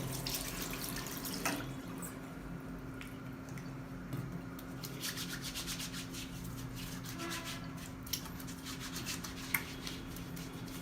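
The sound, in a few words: hand washing under running tap water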